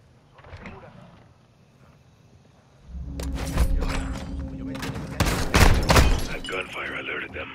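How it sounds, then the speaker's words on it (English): Video game gunfire in Modern Warfare 2 Remastered: a burst of loud shots and rattling fire erupts after a quieter stretch and continues with dense, echoing cracks and thuds. "That gunfire alerted them."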